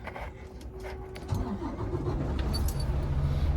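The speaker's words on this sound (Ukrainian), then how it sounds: "Заводимо машину" A truck engine cranks and turns over close by during a pre-trip inspection, settling into a steady rumbling idle after a brief metallic jingle.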